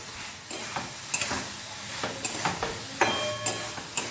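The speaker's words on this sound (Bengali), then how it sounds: "1 মিনিট এভাবে ভালোভাবে মিশিয়ে নিতে হবে, নাড়াচাড়া করে।" Small fish being stirred into fried mustard paste in a pan, with repeated scraping strokes about every half second over a soft sizzle, close and moderately loud.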